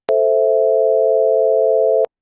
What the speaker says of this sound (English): Let's go back and listen to the minor chord made up of cosines.